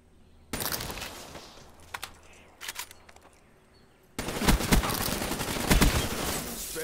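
Gunfire in Black Ops III: a burst of loud shots, then a few scattered bangs, then a sustained, heavier volley of rapid fire.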